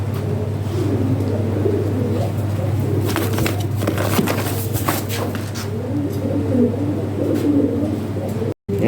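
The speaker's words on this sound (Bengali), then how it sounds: "এই কবুতরটা আমার এক ভাই এসে নিয়ে গেল" Pigeons coo in a loft, with soft low throaty calls repeating over a constant low hum and steady background noise, and a few scattered clatters.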